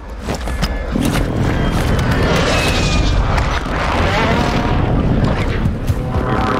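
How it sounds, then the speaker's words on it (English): A continuous roaring barrage of airstrike explosions from Warzone 2 fills the scene, loud and dense with rumbling booms and debris throughout, no clear pauses. "Requesting fire mission! Longbow 3-1 on approach. Strike inbound."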